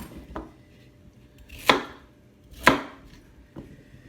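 Washed cabbages are cut into chunky pieces with a knife on a cutting board: four sharp chops, two of them loud and close, spaced about a second apart.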